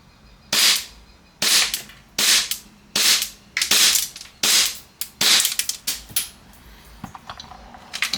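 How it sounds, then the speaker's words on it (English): Roughly ten sharp, loud shots from an Army Armament R604 STI DVC 4.3 pistol, fired one after another at a fairly steady pace with short pauses between, each a crisp crack that ends quickly. "Let me shoot this so you guys can see this."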